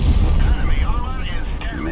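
A booming main-gun shot from the T28 Prototype tank in World of Tanks Blitz, loud and low, with rumbling battle noise and a voice talking faintly over it.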